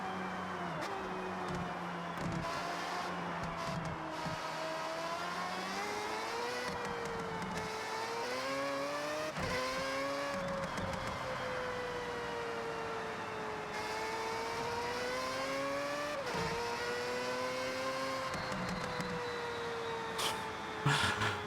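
Honda CR-X engine in the Forza Horizon 6 racing game, revving steadily with rising and falling pitch as it shifts through gears, loud and continuous with no talk.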